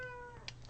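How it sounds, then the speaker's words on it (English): A cat gives a short, faint meow indoors, heard alone and close to the mic. "I hear a cat."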